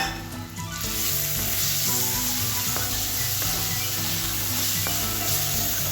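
Onion and ginger sizzle steadily in a pan of oil for pepper chicken, a dense continuous crackle with a few soft clinks of stirring, close and fairly loud, with no voices.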